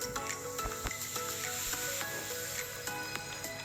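Shrimp frying in oil in a rice pot, with a continuous loud, crackling sizzle punctuated by sharp pops and spatters throughout.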